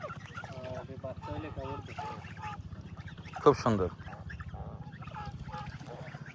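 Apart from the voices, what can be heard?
white ducks near a flooded village road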